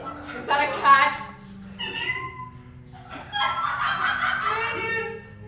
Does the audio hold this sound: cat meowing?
yes